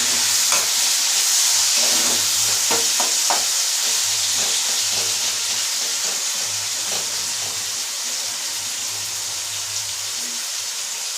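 Potatoes and chopped onion fry in a pan with a loud, steady sizzle, broken by a few scraping stirs early on; no one talks.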